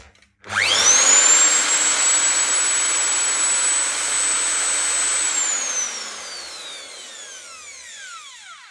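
CMT 7E 2400W router powers up and runs, a sharp rising whine that climbs to a loud steady high-pitched scream for several seconds, then spins down with a falling whine as it coasts to a stop.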